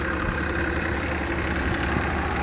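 A tractor engine runs steadily during a wheat harvest on a farm, a loud, even low rumble that neither rises nor fades, with no voices over it.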